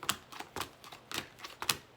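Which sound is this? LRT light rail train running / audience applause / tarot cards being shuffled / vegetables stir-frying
tarot cards being shuffled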